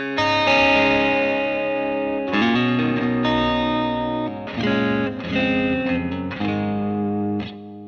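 An electric guitar through a Valeton GP-50 multi-effects pedal on a neo soul preset plays smooth, chorused chords and short melodic phrases, clean-toned with shimmering modulation, alone with no talking.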